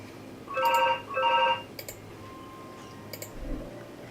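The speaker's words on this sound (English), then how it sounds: "if you can hear the house phone ringing, I don't know who's ringing it" A house phone rings in two long electronic bursts, a short pause between them, loud and close indoors, followed by a few faint clicks and ticks in a quiet room.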